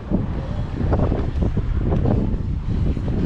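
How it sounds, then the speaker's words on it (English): Heavy wind buffeting a camera microphone on the deck of the cruise ship P&O Britannia, a constant low roar with gusty rumbling throughout and no speech. "it's very windy up here, so I do apologise if that wind is on the camera"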